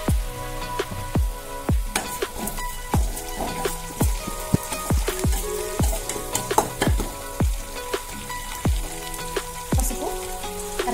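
Green chillies fry and get stirred in a pan for Andhra-style lemon rice, a steady sizzle broken by repeated sharp scraping knocks of the spoon, close and alone with no voices.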